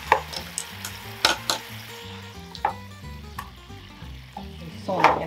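Chicken thighs fry in a pan with orange syrup sauce, giving a moderate sizzle with sharp crackles and the clink of the pan or utensils.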